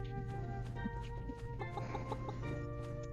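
Chickens in the Pumpkin Days farming video game cluck repeatedly over a steady musical backdrop, with several short, close clucks scattered across the passage.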